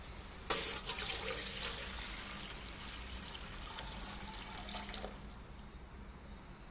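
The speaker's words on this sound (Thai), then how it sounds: "ใส่น้ำลงไปเลยจ้ะ" Water gushes from a tap into a pot for making liquid soap, starting with a sudden splash and then running steadily for several seconds before easing off into a quieter trickle.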